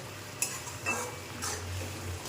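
Green chillies being stir-fried in a pan, with faint intermittent scrapes and light clinks of a utensil over a soft steady background, close but quiet.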